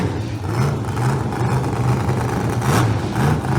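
Pro Mod drag cars with Pro Charger setups, including a Corvette, roaring at an outlaw drag racing elimination, a loud, steady engine drone with a low throbbing rumble that swells slightly toward the end.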